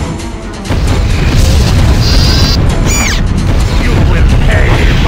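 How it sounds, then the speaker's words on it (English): Broadside battery cannons of a warship fire in the Wii game Godzilla: Unleashed, a dense, loud run of booming blasts and mechanical clanks over continuous battle noise, with a voice shouting over it. "Fire broadside batteries!"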